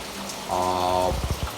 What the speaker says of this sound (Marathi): पाऊस थांबून थांबून